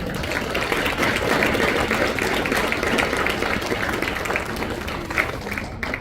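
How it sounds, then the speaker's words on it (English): An audience applauds, steady dense clapping from a crowd filling the room at moderate loudness, with faint murmur beneath. "please give a rounding applause to Kelly Lobianco."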